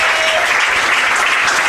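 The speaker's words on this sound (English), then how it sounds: "walk off the mound to a thunderous round of applause from the Groton faithful" Home crowd applause at an American Legion State B baseball tournament as a 14-year-old pitcher leaves the mound, a steady, thick round of clapping with a faint voice underneath.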